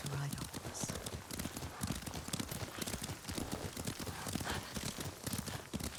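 Horse hoofbeats in the video game Ghost of Tsushima, a steady rapid clip-clop of riding on ground, close and continuous, with talk over it.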